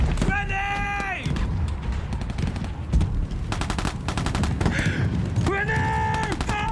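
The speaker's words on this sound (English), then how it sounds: "Grenade!" Rapid machine-gun bursts and heavy thuds from a war-themed music video play loud and near, broken by sustained tonal musical passages at the start and end.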